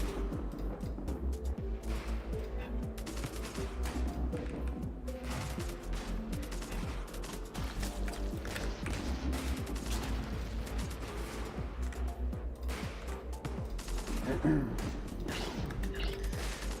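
Fire-shell artillery in the Redcon strategy game is heard as repeated booms and crashing impacts under an ongoing drone of battle. A person talks faintly over the gunfire at times.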